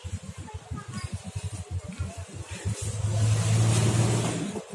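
A car engine idles with a pulsing, uneven rumble, then swells into a steadier, louder drone as the vehicle gets going, close by and without talk.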